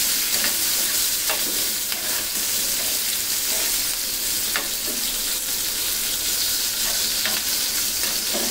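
Chicken frying with white pepper in a pan, a steady close sizzle broken by repeated scraping and clacking of stirring, no speech.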